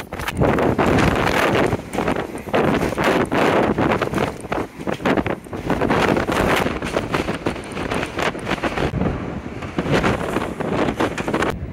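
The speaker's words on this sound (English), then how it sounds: "It's windy up here this morning." Strong wind buffets the microphone nonstop on the deck of the P&O cruise ship Iona at sea, a loud rumbling roar with gusty surges, and faint wash of water underneath.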